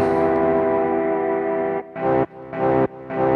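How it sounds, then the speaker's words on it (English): A u-he Runciter fuzz distortion in Reason yields a thick, buzzing distorted tone with heavy low rumble, holding steady and then chopping into three short pulsed bursts. "take clear note of how much rumble is generated into your signal using this distortion."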